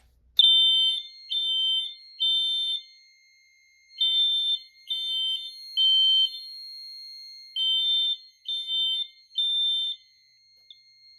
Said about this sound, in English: Lastly, time to test the heat detector.